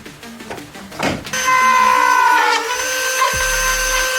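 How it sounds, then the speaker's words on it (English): A power drill bores holes for hood pins on an Acura NSX, starting with a few short bursts and then settling into one loud, steady whine close by that lasts several seconds. "we're gonna drill right there and right there"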